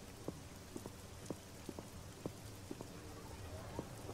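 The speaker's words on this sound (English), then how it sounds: "It's raining." Rain falling in the Black Mirror II video game, a faint steady patter with scattered sharper drips, soft and continuous throughout.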